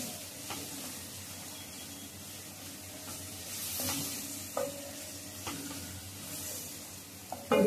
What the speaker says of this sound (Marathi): गॅसची फ्लेम स्लो ठेवले, कारण तो कांदा आणि टोमॅटो परतून जाईल